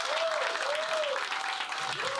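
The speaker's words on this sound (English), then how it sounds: "y'all clap it up for my daughter who's here today with me celebrating" Steady applause from a comedy bootcamp graduation audience cheering a comedian's daughter, a continuous moderate wash of clapping with a faint whistle-like tone over it.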